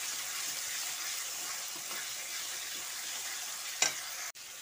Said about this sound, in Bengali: টক দইটা দিয়ে মশলার সঙ্গে ভালো করে মিশিয়ে নিচ্ছি।